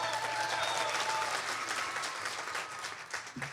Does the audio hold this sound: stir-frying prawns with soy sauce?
no